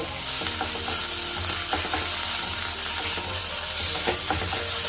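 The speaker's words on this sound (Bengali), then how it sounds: "সমস্ত মশলাগুলি একসাথে ভালোভাবে কষিয়ে নেব।" Turmeric, Kashmiri red chilli powder and other spices fry together in a hot pan for an egg curry, a loud continuous sizzle with scraping spatula strokes repeating throughout, no talking.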